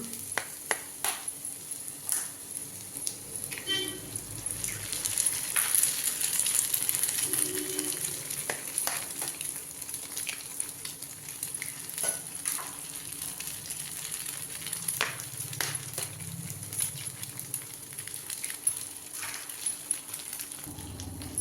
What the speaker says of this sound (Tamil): இப்போ வந்து நம்ம எக்கு வந்து இதில் ஒன்று ஒன்றா உடச்சி ஊற்றி கிண்டிடலாம்